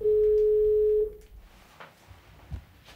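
A steady telephone line tone sounds loudly for about a second on a call home from a Ukrainian prisoner-of-war camp, then cuts off, leaving faint background noise and small knocks.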